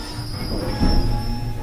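A passenger train rolls along the railway with its doors open, a steady loud rumble under a high thin wheel squeal, with a brief heavier thump midway.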